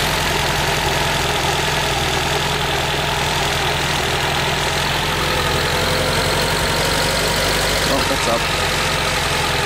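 A 1986 Suzuki Samurai engine idles roughly and loudly up close, a continuous rumble with uneven pulsing that never settles, while someone speaks briefly over it.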